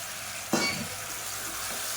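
Onion, garlic, beans, brinjal and potato sautéing in a pan, a sharp stir or toss near the start followed by a steady close sizzle.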